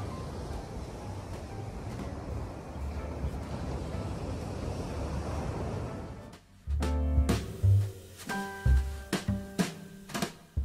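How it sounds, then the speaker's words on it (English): Ocean waves wash at a beach as a steady broadband rush with wind noise for several seconds, then give way to louder knocks and handling bumps near the microphone. "We saw the sun, we watched the waves"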